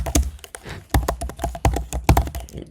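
Typing on a computer keyboard while setting up a Django server in Python: irregular bursts of sharp, close key taps with brief pauses between strokes, no voices.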